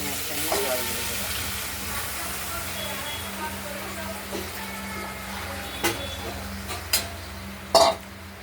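Fish curry masala with katla and potatoes sizzling in a pan as water goes in: a steady hiss and crackle of frying, with a few sharp clatters toward the end.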